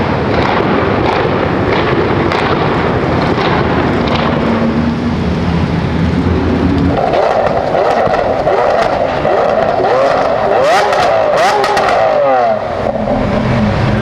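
A car driving along with a loud, steady road and wind roar, the engine tone shifting midway, recorded from close by with heavy wind buffeting.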